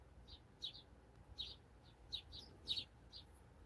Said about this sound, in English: they make quite a bit of noise. The house sparrows really like those red feeders at the back.